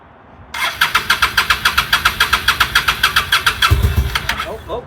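Honda Shadow motorcycle engine cranking over with a steady rapid rhythm of starter pulses, then catching and firing up with a louder low rumble near the end, close to the microphone.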